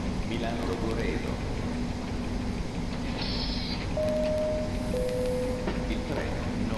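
An Intercity train sits at a platform near Milano Centrale with a steady loud rumbling drone, a brief high squeal and a two-tone chime, while a station announcement plays over the noise.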